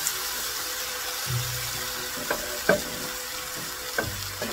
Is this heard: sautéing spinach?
yes